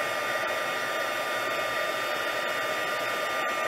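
An embossing heat tool blows a constant, loud airy roar as it melts colored embossing powder on a stamped card, with no speech.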